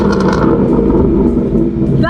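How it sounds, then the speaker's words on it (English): A Ford Mustang V8 fitted with a Borla exhaust revs up close and loud, producing a thick, sustained roar that holds steady for about two seconds. "we have Borla pipes, which means that this exhaust sounds amazing. And so if we rev the car,"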